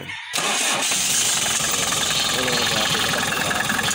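A Hyundai H100 engine turns over and catches after a steering pump replacement, becoming a loud, steady, rough-running roar close by that continues without a break.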